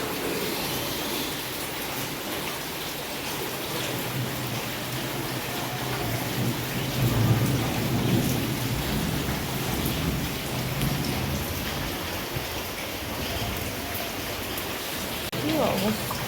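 Heavy rain pours steadily on surfaces, a dense, close hiss with a low thunder rumble rising and fading partway through, no voices.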